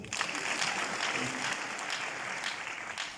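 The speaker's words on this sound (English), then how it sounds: "As we sit, kindly clap for us." An audience at a political gathering claps together in a dense, steady wash of applause that fills the whole stretch at an even, fairly loud level, with faint voices mixed in beneath.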